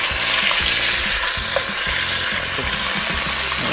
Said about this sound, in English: we're going to heat up some oil here. And we're going to add our meat.